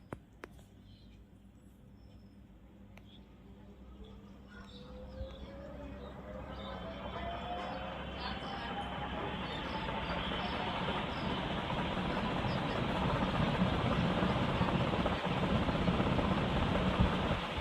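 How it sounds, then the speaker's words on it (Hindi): A ceiling fan running after a new capacitor is fitted, giving a soft airy whoosh that builds steadily as the blades spin up, with no clear talk. "आपको आवाज़ सुनाई दे रहा है ये पंखे की जो हवा है ना उसी का आवाज़ है"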